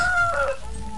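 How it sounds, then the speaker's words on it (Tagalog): A rooster crows once, a drawn-out tonal call fading into farmyard background noise. "nagadamo na gid ang inugbulang mga manok"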